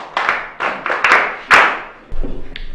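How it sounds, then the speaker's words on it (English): A classroom of pupils in a Hausa film claps for a boy, with uneven bursts of loud, close hand claps that end abruptly, followed by faint murmuring. "Clap for him"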